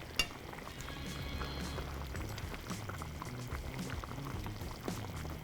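Thai green curry bubbles at a steady boil in a pot, a dense, close gurgling and popping that runs continuously with a few sharper blips and no talk.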